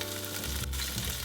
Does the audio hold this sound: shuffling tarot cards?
no